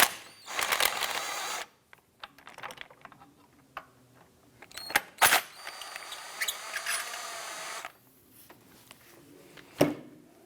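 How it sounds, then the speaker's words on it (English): Socket wrench turning out 14mm bolts on a 2004-2008 Acura TL power steering pump, close ratcheting clicks in bursts with sharp metallic taps and pauses between; no talking. "Use a 14mm socket to remove the other two bolts here."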